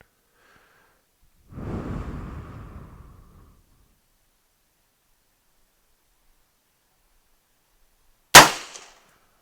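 A single sharp, loud rifle shot from a Bear Creek Arsenal 6.5 Grendel upper cracks close by with a brief ringing tail, after a softer rushing noise and a long quiet gap, with no talking.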